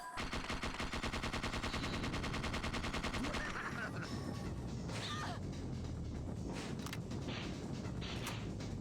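Rapid MP5 submachine-gun fire from Parasite Eve II, a dense, loud automatic burst in the opening seconds that gives way to chaotic combat noise and scattered impacts.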